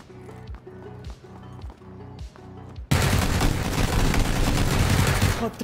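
Gunfire from PLAYERUNKNOWN'S BATTLEGROUNDS in a practice firing range, shotguns and SMGs: a run of evenly spaced, punchy shots, then a dense, loud burst of rapid fire filling the second half.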